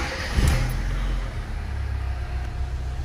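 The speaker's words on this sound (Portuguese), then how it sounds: "Eu vou ligar o carro aqui, pra gente concluir." A car engine, a vehicle fitted with a 75-degree radiator thermal switch, catches with a brief burst near the start, then settles into a steady, close, fairly loud idle rumble.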